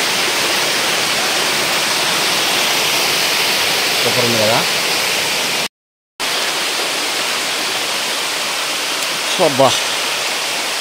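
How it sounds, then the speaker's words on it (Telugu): Waterfalls near a hillside temple rush in a loud, continuous roar close by, with a brief cutout midway and a couple of short spoken exclamations over the water. "చూడండి ఎట్లుందో జలపాతాలు"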